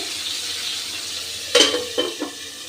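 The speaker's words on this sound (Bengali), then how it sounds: "আমি এই মাছগুলো ঢাকা দিয়ে ভেজে নেব, কারণ এই মাছগুলো প্রচণ্ড ফোটে।" Fish frying in hot oil under a lid in a pan: a steady soft sizzle, then a few sharp spitting crackles near the end, close and fairly loud with no voices.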